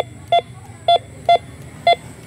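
A metal detector held over a buried target gives four short, evenly spaced electronic beeps, each clear and steady in pitch, above a low background hum, with no one speaking.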